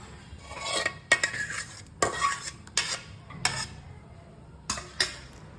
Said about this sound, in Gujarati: આ રીતે ધીમે ધીમે સતત ચલાવતા રહેવાનું છે.